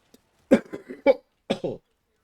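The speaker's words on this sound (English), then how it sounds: "that was a strong cough there, wasn't it?" A person lets out a few hard, close coughs in quick bursts during a gaming session, with nothing else around them.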